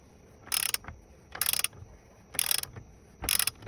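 A torque wrench on a 22 mm socket tightens a Yamaha MT03 front sprocket nut to 42 foot-pounds, giving four evenly spaced bursts of close, sharp ratcheting clicks with quiet gaps between them.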